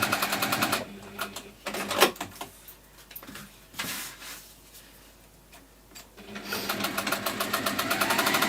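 Sewing machine top stitching fabric for a small pocket bag holder, running in fast steady bursts at the start and end with quieter pauses, handling rustles and clicks between.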